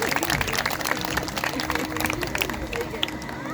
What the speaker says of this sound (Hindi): ताली बजाकर काकों को धन्यवाद करेंगे